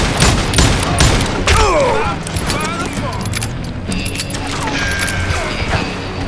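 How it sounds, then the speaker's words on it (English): Gunfire bursts in the Western shooter game Call of Juarez Gunslinger, set outside Juarez, with loud shots and impacts layered over game dialogue and ambient noise. "Who's shooting at us? We're under fire!"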